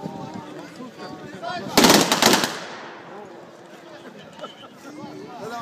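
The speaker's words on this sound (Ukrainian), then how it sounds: "а зараз буде салют, почекайте ще" Loud crackling burst of a fireworks salute set off at a commemoration of a 69th battle anniversary, a dense rapid volley lasting under a second amid outdoor crowd murmur and talk, then fading back to background voices.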